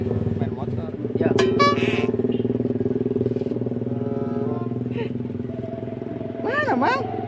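A motorcycle engine runs close by in steady, continuous drone with a brief revving swell, while people talk over it outdoors.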